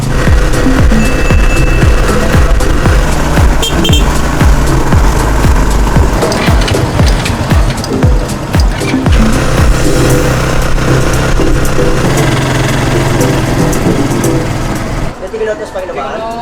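A motorized tricycle's small engine runs loudly and close while the trike carries passengers, with rattling bodywork and road rumble over a steady drone that drops away near the end.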